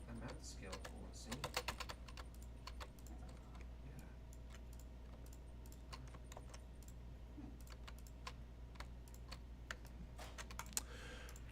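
Rapid bursts of typing on a computer keyboard, close and quiet, with scattered single key clicks and pauses between flurries over a low steady hum.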